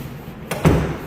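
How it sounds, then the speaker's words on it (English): A bedroom door in a house swings shut with a short thud and a brief latch click, close and fairly loud, with no talking. "make sure the primary bedroom door closes."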